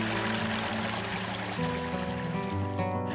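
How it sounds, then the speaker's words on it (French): Bonaventure-Ouest river at Saint-Siméon flowing steadily, a continuous close rush of water with no pauses, along with some steady tonal hum. "Cette rivière prend sa source à partir de plusieurs petits ruisseaux qui se jettent tous dans le même sens et qui finissent par créer le débit qu'on voit présentement"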